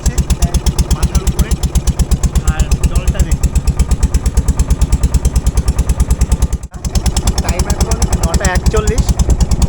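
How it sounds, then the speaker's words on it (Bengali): A boat engine running on the sea crossing from Namkhana to Gangasagar makes a close, loud, steady throbbing chug, with people talking over it. "এই যে আওয়াজটা হচ্ছে এটা থাকবে কারণ এটা ইঞ্জিনের আওয়াজ"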